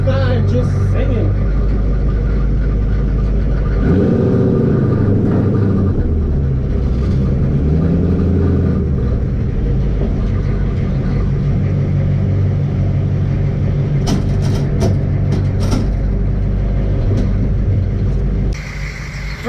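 A 6.5 diesel race truck engine fitted with an S475 turbo runs close by, a loud deep rumbling idle with low throbbing pulses and some revving, with a voice talking over it.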